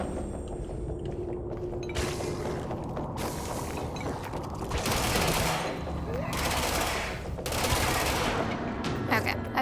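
Gunfire in the video game Control: rapid bursts of shots and weapon mechanisms crackle in repeated volleys over a busy game soundscape, with a voice talking through parts of it.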